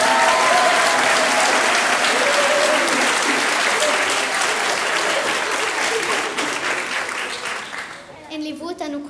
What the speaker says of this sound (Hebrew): וזה הרגע למחוא כפיים.